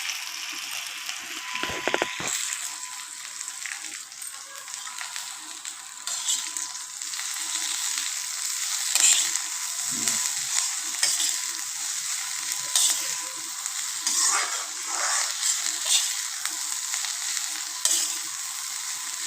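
Onions fry in an iron kadhai with a soft, continuous sizzle, broken by occasional light clinks and stirring scrapes, fairly quiet and steady with no voices.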